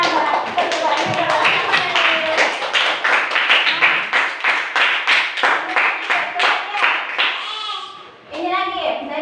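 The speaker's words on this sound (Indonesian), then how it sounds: "tepuk tangan." A group of children in a classroom clapping their hands in quick rhythmic bursts for several seconds, loud and close, with young voices calling out over the claps and a brief shout near the end.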